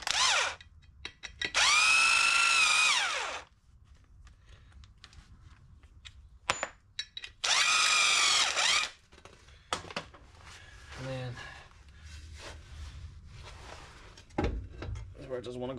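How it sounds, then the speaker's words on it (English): Pneumatic nut gun (impact wrench) rattling off bolts while welding work on a Mitsubishi Pajero, two loud sustained bursts of a couple of seconds each, with clanks of tools and brief talk in between. "I suppose we'll just use the nut gun to take those bolts out."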